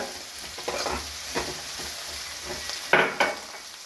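Green chillies tossed into a sizzling pan of home-style beef fry, a steady close frying hiss broken by several scraping stirs and a couple of sharper clatters near the end.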